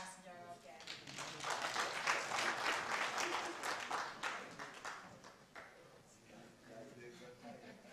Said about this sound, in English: please give a round of applause to Mr. Tyrus Njoroge.